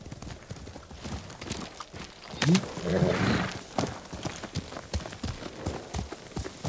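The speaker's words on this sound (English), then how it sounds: "Horse!" Horse hooves clip-clop at a gallop in the samurai video game Ghost of Tsushima, a steady drumming rhythm of moderate loudness that swells midway, with a voice calling out briefly.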